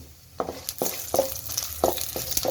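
Coriander seeds, dried red chilies and cumin roast in oil in a pan for an Andhra-style urad dal chutney, with a close sizzle and crackle and several sharp stirring scrapes and pops.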